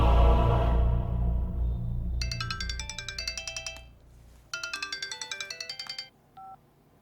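Mobile phone ringtone on speaker plays bright repeated electronic chiming in two bursts, loud and close, after a low rumbling background fades out.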